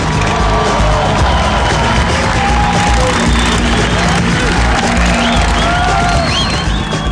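A crowd applauds and cheers as the National Guard Patriot Chopper motorcycle is presented at a public event, with continuous dense clapping and shouts filling the space while an announcer's voice carries over the top.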